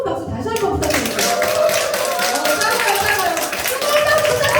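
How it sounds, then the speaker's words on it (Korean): Applause from a seminar audience at a Korean business leadership session, steady and dense throughout with voices mixed in underneath. "정말 뜨거운 박수 다시 한번 부탁드립니다"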